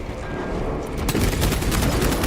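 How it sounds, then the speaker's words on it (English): Defensive cannons firing in the video game Moss, a dense rapid fusillade of booming shots that becomes louder and busier after the first second, with no talk over it. "Defensive cannons active."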